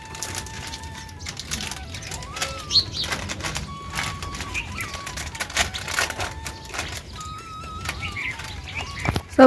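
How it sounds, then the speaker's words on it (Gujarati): Birds flocking in to eat scattered grain at a morning feeding spot, with bursts of flapping wings and scattered chirps and calls over a busy background. "હમણાં કેટલા બધી પંખી આવી જાય ખાવા"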